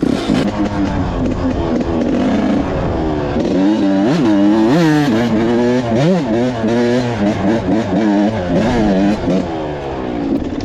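A motocross dirt bike engine revs and rises in pitch through the gears, loud and close, with a continuous roar throughout, while doing mini jumps.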